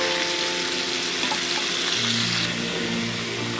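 Fish frying in a pan while being stirred, a steady loud sizzle with a faint scraping hum throughout, no talking.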